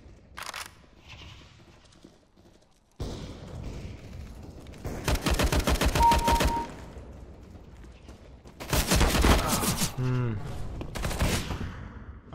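Counter-Strike: Global Offensive gameplay with rapid bursts of automatic gunfire, long rattling volleys separated by quieter gaps with scattered single shots and metallic mechanical clicks, loud and close.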